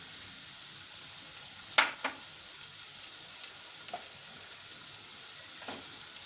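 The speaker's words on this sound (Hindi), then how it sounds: "इसको थोड़ा फ्राई करना है, ज़्यादा नहीं करना है, हल्का ही करना है।" Cubed onion and capsicum frying lightly in a pan, a soft steady sizzle with a few brief scraping stirs, close and quiet.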